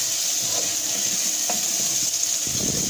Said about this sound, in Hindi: अब हम हाफ कप मतलब कि थोड़ा सा हम ऐड करेंगे पानी ताकि हमारे मसाले जो है अच्छे से कुक हो जाए।